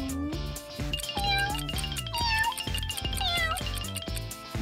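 A cat meows repeatedly in short rising and falling calls, close and clear, over a busy background of light music.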